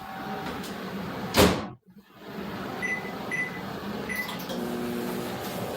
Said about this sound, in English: Bam it up a notch with some garlic bread that I'm going to defrost in the microwave